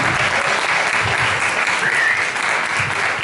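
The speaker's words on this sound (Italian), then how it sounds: "ai quali indirizzerei un applauso" A hall audience at a lecture applauds steadily, a dense wash of clapping that holds at even loudness for the whole stretch.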